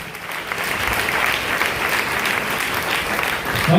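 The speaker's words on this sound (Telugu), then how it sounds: "చప్పట్లు కొట్టాడు గట్టిగా." At a Sunday service in Vysarpadi, Chennai, the congregation claps loudly in a continuous, dense wash of applause that holds steady throughout.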